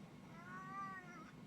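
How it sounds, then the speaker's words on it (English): A single drawn-out meow from a male cat, faint and somewhat distant, rising and falling over about a second against a quiet background. "My cat Pepper has been very... Oh, he's been meowing a lot today"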